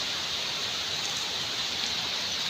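Rain keeps falling in a steady, moderately loud hiss, uniform and unbroken, with no voices over it.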